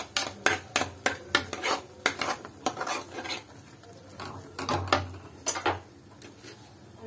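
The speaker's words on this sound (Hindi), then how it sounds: "और हल्दी 1/2 चम्मच, 1/2 चम्मच धनिया, इनको अच्छी तरह से मिक्स कर लेती हूँ" Turmeric and coriander spice powders are stirred together with a spoon, producing a quick run of light, close clinks and scrapes against the bowl or pan that rise and fall in bursts.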